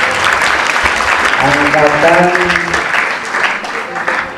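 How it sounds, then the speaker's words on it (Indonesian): Alumni audience applauding at an Indonesian break-the-fast gathering, a dense steady clatter of clapping that fills the moment, with a voice speaking over it. "alumni, tepuk tangan dulu dong."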